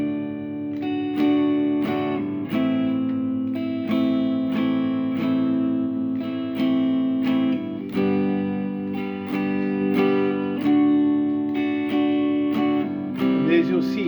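Acoustic guitar strums a slow, steady chord progression, each chord struck in a regular rhythm with sustained ringing strings, close and fairly loud with no voice over it.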